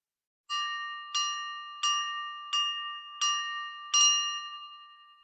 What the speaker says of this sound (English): there is our brain teaser bell right up on the screen